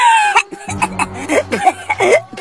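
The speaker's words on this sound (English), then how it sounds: "Man, you've been coughing for weeks." A person coughs repeatedly in a series of harsh, throaty bursts, loud and close, with short gaps between each cough.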